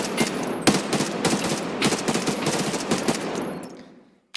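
An unsuppressed assault rifle from Escape From Tarkov fires in close, loud, snappy rapid-fire bursts for several seconds, then stops and the sound fades out.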